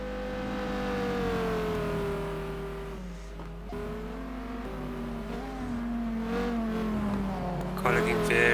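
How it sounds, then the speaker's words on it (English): A race car engine in a sim racing game at Kyalami drones and revs, its pitch sliding up and down through corners and braking, with a sharper burst near the end. "Car looking very quick through the corners, late on the brakes, good drive out the corners"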